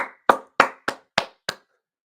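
Five sharp single hand claps, evenly spaced about a third of a second apart, crisp and close, each decaying quickly into silence, with a brief voice before the first.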